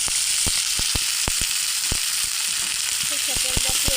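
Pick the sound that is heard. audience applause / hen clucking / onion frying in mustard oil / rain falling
onion frying in mustard oil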